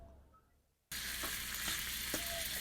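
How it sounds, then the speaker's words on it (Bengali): Mustard oil hits a hot pan for frying fish and bursts into a loud, steady sizzle after a quiet start, with a few sharp crackles and pops through it. "কড়াই গরম হয়ে গেছে, আমি সরষের তেল দিয়ে দিচ্ছি মাছ ভাজার জন্য।"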